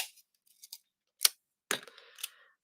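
Sticky tape being pulled and torn off for card making: a few brief ripping bursts, the longest near the end with a short crackling tail, close and fairly quiet with silence between.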